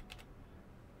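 Quiet keystrokes tap on a computer keyboard while text is entered into a FileMaker point-of-sale screen, with a short burst of clicks near the start and then soft room tone.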